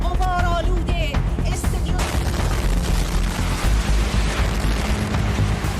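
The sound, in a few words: explosion during Israeli strike on Iranian state TV broadcast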